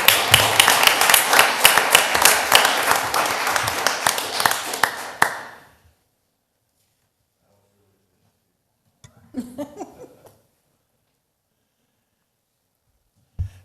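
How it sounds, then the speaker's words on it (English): A small audience at a council meeting claps for about five seconds, a brisk, close run of individual hand claps that stops abruptly, followed by near silence and then a brief voice. "Please give Scott another round of applause"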